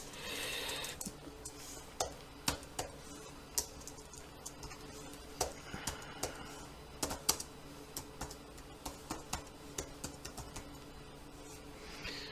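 Keys clatter on a computer keyboard in an irregular run of quick, fairly close taps, with small bursts and pauses over a low steady room hum, and no voices.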